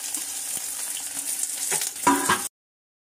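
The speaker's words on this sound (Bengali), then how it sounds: "পেঁয়াজটাকে এই তেলের মধ্যে ফ্রাই করে নেব" Chopped onions fry in hot oil, a steady sizzling hiss with a few faint clinks, swelling into a louder burst of crackle and scraping before cutting off abruptly.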